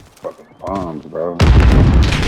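A bomb explodes in the shooter game Modern Warfare: a loud, sustained blast rumble takes over after a short stretch of voiced sound and holds to the end.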